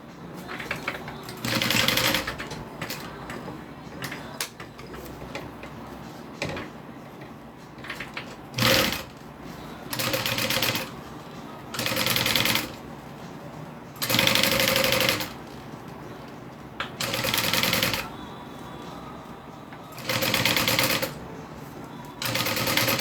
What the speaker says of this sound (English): then we're going to fold it one more time and then sew it all together